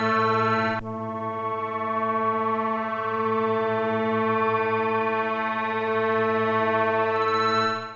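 A sustained, droning granular pad from a Arturia MicroFreak synthesizer with steady layered harmonics, holding a continuous tone that shifts subtly as it slowly scans through the sound, with no talking.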